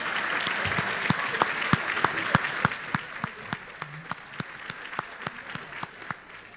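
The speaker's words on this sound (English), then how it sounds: "And let's give one more round of applause to Claudine and Sarah" An audience at an awards ceremony applauds, a moderate, steady crowd clapping with a few sharp individual claps standing out in an irregular rhythm throughout.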